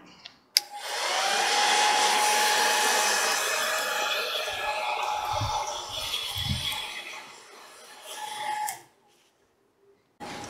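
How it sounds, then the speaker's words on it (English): A handheld hairdryer blowing husks off green coffee beans outdoors, a loud steady whooshing roar that starts abruptly, fades slightly midway, then cuts off near the end leaving brief quiet. "I've also brought out the trusty hairdryer."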